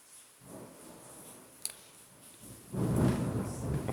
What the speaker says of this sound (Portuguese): Tá chovendo, viu?